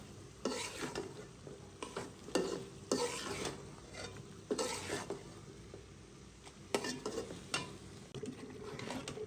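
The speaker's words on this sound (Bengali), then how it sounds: "আরো কিছুক্ষণ কষাবো।" Meat being sautéed in a pan, kosha style, a low sizzle with regular bursts of spatula scraping and stirring against the metal, close and moderately quiet, with no talking.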